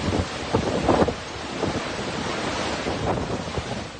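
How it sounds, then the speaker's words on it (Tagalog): Heavy rain and strong wind from Typhoon Emong lash La Union: a constant, dense roar of wind buffeting and pouring rain with gusty surges, loud and close to the microphone, with no voices. "Ganito kalakas ang ulan at hangin na dala ng Bagyong Emong sa La Union sa nakalipas na magdamag."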